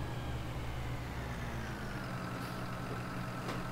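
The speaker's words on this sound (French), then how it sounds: "on va rentrer le tracteur" Steady tractor engine idling in Farming Simulator 19 on a French farm map, a continuous low rumble holding level throughout with no talk over it.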